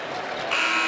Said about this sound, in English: Ashton Langford comes up short at the buzzer, and that'll do it